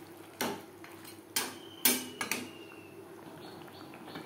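A spatula scraping and clinking against a pan as boiled bottle gourd is mixed with fish head, four or five sharp metallic knocks spaced apart over a faint background hum.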